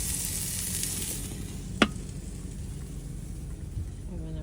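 Steak frying in a pan at a camp, a steady broadband sizzle running throughout with a single sharp click near the middle, close and moderately loud.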